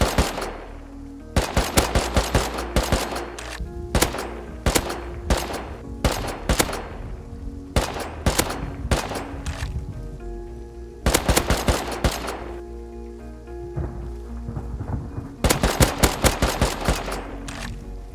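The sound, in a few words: AK rifle gunfire in a video game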